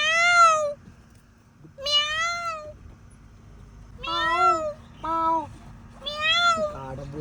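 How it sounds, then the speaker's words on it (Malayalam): A cat about to give birth cries with a series of long, wavering meows, about five close, loud calls in separate bursts with short pauses between them. A low background rumble runs underneath. "പൂച്ച പ്രസവിക്കാൻ കിടക്കുമ്പോ എങ്ങനെ കരയ?"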